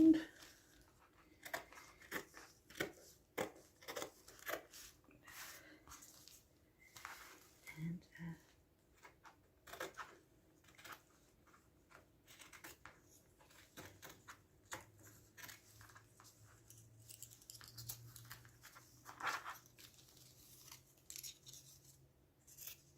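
Scissors snip around paper in repeated short crisp cuts with faint rustling, quiet and close, while a person talks softly between and over the cuts.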